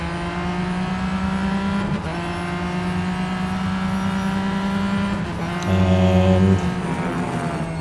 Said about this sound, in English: See how this car sounds from the cockpit view.